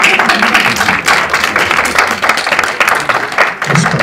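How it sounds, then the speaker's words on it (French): An audience at a talk on landscape and ecology breaks into applause, a loud, dense wash of clapping across the room that carries on steadily with slight swells. "Je ne m'attendais pas aux applaudissements là"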